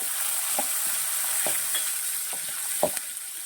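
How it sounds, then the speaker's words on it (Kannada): Green chilies frying in hot oil in a pan: a steady close sizzle with occasional soft pops and stirring taps, and no voices. "ಹಸಿಮೆಣ್ಸಿನ್ಗೆ ಹಾಕೊಳ್ಳೋಣ ಒಂದು ಆರೇಳು ಹಾಕೊಳ್ಳೋಣ ಎಣ್ಣೆಲಿ ಫ್ರೈ ಆದರೆ ಖಾರ ಕಮ್ಮಿ ಆಗುತ್ತೆ"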